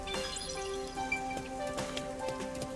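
Steady rain falling in the Rain Code video game, a soft continuous patter with scattered drip-like ticks over a faint musical background tone.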